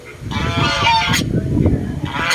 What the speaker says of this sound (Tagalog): May mga yung tawag namin dito, gansa.